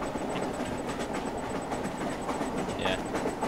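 A train rolls along steadily in Garry's Mod, a continuous rumbling rattle with faint clickety-clack at close range, while voices talk over it.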